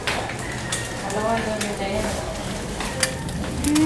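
Eggs fry in a pan with a soft, steady sizzle and occasional utensil scrapes and clicks, heard close under background talk.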